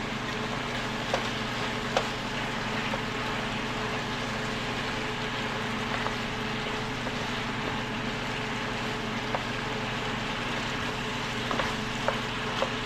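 A steady, crackling sizzle of ginger frying in a pan, continuous and close, with a low hum underneath and a few faint clicks.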